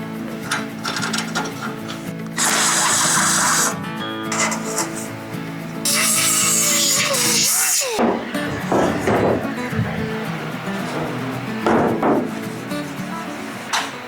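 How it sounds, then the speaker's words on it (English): A cordless power drill with a hole saw cuts wood in two loud whirring bursts, followed by clattering, knocking workshop noises and a person speaking nearby. "drill that half moon out with a hole saw"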